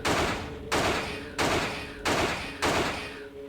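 Five heavy gunshots at a monster in Alone in the Dark: The New Nightmare (2001), each a loud close blast with a long fading tail, fired at an even, unhurried pace with no talk.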